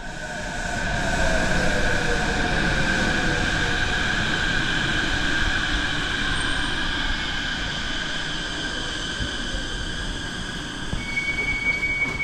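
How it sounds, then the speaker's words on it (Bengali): A Japanese suspended hanging train pulls into a platform with a loud, continuous rumble and rising wheel squeal, steady tones sliding as it slows, and a faint voice at times. "ফেরার ট্রেন এসে গেল।"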